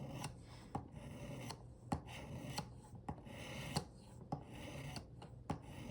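A knife blade is drawn repeatedly across a finer stone on a Work Sharp adjustable sharpener, producing soft rhythmic rasping strokes, each ending in a faint click, quiet and close up at a steady pace.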